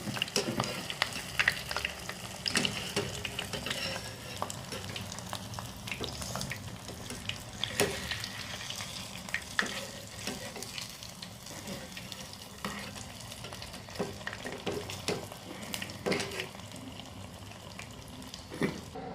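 Steady crackling sizzle of banana fritter batter deep-frying in hot oil, continuous and close, with occasional light clinks of a utensil.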